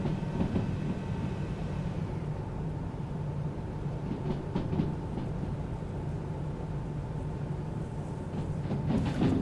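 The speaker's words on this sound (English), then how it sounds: "Hear the compressor doing all the work there." A locomotive air compressor runs steadily in the train game Derail Valley, a continuous droning chug layered over the low rumble of the moving train, with no talk.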